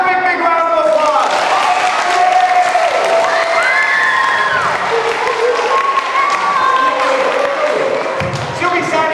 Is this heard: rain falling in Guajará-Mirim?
no